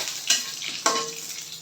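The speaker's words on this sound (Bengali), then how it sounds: "এই তো রসুন আর শুকনো মরিচ দিয়ে দিলাম সেটা সরিষার তেল" Garlic and dried red chili crackling in hot mustard oil while being stirred, two sharp spatula scrapes over a continuous close sizzle.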